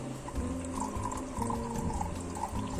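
Distilled water pours steadily into a bottle as the base for homemade hand soap. The stream is soft and continuous and goes on for a few seconds with no talking.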